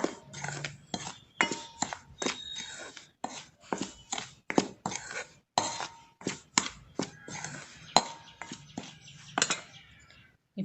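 Rava and maida batter being stirred with milk, a rapid run of sharp clinking strikes of a utensil against the bowl, fairly close and steady, with no talking.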